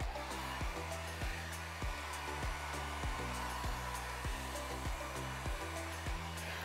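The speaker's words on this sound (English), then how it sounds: "we're gonna blow this paint out." A blow dryer blasts steadily to push paint out across a resin Dutch pour painting, a loud constant whooshing hum with a regular pulsing throb and no speech.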